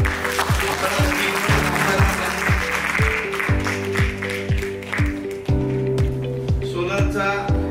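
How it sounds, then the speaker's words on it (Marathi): An audience claps at a solar expo knowledge session, the applause rising under loud rhythmic music with a thumping beat and a voice speaking over it. "एकदम टाळ्या वाजवूया."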